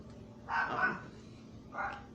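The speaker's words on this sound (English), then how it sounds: "Sorry for my dog barking in the back" A dog barks twice from the background indoors, a longer bark followed by a shorter one after a brief pause, moderately loud.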